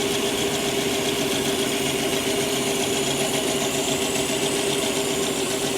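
Chopped 1950 Buick engine running rough at idle, a loud, close, continuous uneven chugging with a constant mechanical rattle and no talking.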